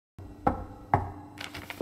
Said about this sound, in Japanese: 今ドアノックされました？